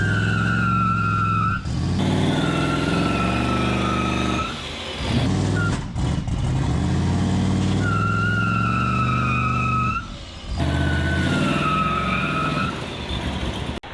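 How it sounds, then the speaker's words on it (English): A 1965 GMC truck nicknamed Gonzo, down on power with heavy blow-by, attempting a burnout: a loud sustained engine roar with high tyre-squeal tones, cutting out briefly and surging back several times over fourteen seconds. "that burnout attempt on Gonzo was way less than impressive"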